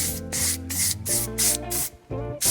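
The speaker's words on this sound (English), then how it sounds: "you can use a serum or just a hairspray and kind of polish everything down" Hairspray hissing onto styled, blow-dried hair in a series of about six short, loud spray bursts separated by brief pauses, with steady tonal background music underneath.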